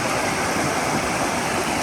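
A large river flows past a bank beside teak plantation land and rice fields, giving a steady, dense rushing wash of water with no pauses.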